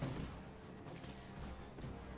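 Imperial cannons fire in the airship battle game Airships: Conquer the Skies, giving a steady low rumbling barrage of booms that runs through the whole stretch at moderate loudness, with no talk.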